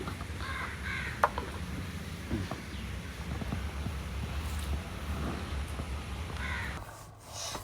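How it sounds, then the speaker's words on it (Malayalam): Crows caw now and then at a distance over a steady outdoor wind rumble, with a few sharper calls standing out. "നമ്മുടെ കാക്കകള് കാത്തിരിക്കുന്നത് കാണിച്ചു തരാം"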